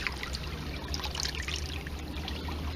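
Creek water trickles and streams steadily over onions left to rinse in the current, a soft, continuous burble close by with no voices.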